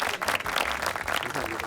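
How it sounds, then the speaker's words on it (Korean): A small shop group claps for the first customer at a clothing sale, a short burst of scattered, fairly faint applause lasting under two seconds. "자, 첫 번째 손님 박수."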